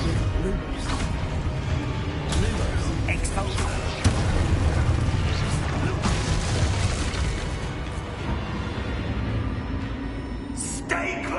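Expulso spell explosions in Hogwarts Legacy, a string of booming magical blasts and crackling bursts over continuous game rumble, with one sharper burst standing out midway.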